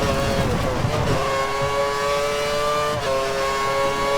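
A Formula 1 car roars in the F1 2013 video game at a wet Silverstone, its engine held at a high, steady whine during wheelspin, loud and continuous with a brief dip.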